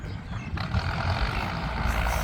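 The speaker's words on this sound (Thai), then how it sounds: "รถไถมาพร้อมแล้วครับ" A farm tractor arrives on a Thai rural homestead, its engine running in a steady loud rumble that swells a little as it nears, with no voices.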